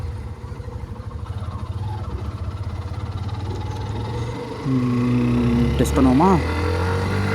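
Hero Xtreme 125R 125cc motorcycle engine running with a steady low hum, then rising revs near the end, heard beneath a voice talking throughout.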